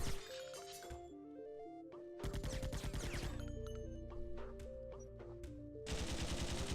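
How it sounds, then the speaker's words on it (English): Rapid machine gun fire from the side-scrolling video game Iji, bursts of clattering shots layered over steady game music, loud and close with brief pauses between volleys. "Machine gun time."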